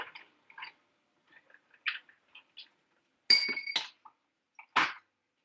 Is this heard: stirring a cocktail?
yes